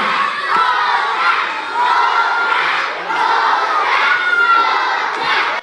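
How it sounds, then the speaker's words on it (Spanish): Crowd of children shouting and cheering together at the end of a puppet show at an outdoor puppet festival, a loud continuous roar rising and falling in waves. "los niños no dudaron al final del espectáculo en pedir a gritos otro número a los titiriteros"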